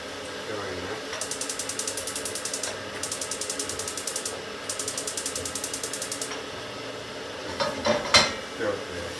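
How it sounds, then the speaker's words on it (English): A kettle heating in a home kitchen while onions brown gives off repeated rhythmic bursts of rattling, ticking noise in three long runs, followed by a few clinks of kitchen utensils near the end. "Oh, it's the kettle doing that noise."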